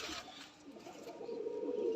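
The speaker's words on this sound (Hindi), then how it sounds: "कबूतर हैं, लगे लगाए दो अदद जोड़े हैं ये" Pair of teddy pigeons cooing close by, soft low burbling coos building and steady through the latter half, with no talk.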